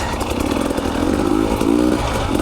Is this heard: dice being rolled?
no